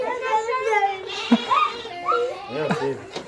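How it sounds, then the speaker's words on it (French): Young lambs bleat and cry in a crowded pen during bottle feeding on a sheep farm, several overlapping calls close by with a person talking among them. "on va aller voir comment on biberonne ça, des petits agneaux"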